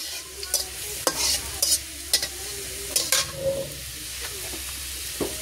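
Ground spice paste of cumin, garlic and dried red chilli sizzling in a hot pan, with sharp, close scraping stir strokes about once a second over a steady fry.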